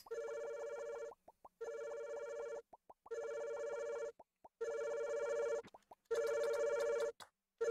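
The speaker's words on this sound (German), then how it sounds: "Oh, mein Telefon klingelt." A phone in the video game Underdungeon rings in regular electronic bursts, five to six evenly spaced ring cycles separated by short pauses, clear and alone.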